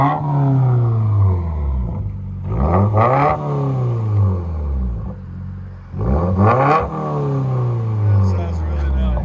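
A 2020 Subaru WRX turbo with a dual straight-pipe exhaust revs loudly and up close, with two sharp throttle blips that climb and fall over a steady idle rumble.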